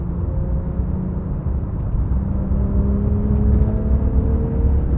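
A 2017 Porsche 911 Carrera GTS driving fast on a race track, giving a steady loud engine drone with a rising pitch under continuous road and wind rumble.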